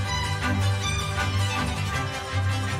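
A classical parody piece in a bluegrass style plays as a continuous, dense stretch of music at moderate volume, with no voices over it.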